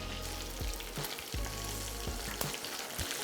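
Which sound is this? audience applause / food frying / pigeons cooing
food frying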